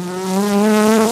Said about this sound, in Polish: Teraz właśnie słyszycie, jak pszczoła brzęczy.